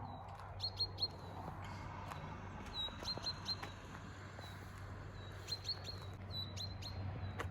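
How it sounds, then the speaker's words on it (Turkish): Small birds chirp in short high bursts at a distance, repeating several times over a steady low background hum. "Şu kuşların sesine bakın."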